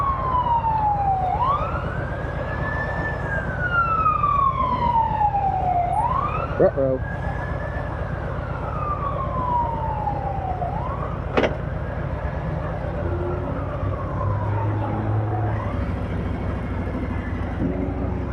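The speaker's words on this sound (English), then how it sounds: "Ooh, I hear a siren." A wailing emergency siren sweeps up and down repeatedly over steady traffic and engine rumble while riding a motorcycle out of a city, loud and continuous, with a brief voice reacting once.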